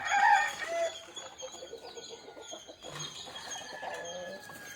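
A black country chicken clucks in short bursts near the microphone, with other birds chirping and calling in the background throughout.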